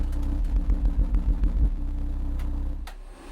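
Timpano TPT-T3500-15-D2 15-inch subwoofer in a low-tuned box pushing almost 1,000 watts of 32 Hz bass, a loud, steady, pulsing rumble that cuts off near the end.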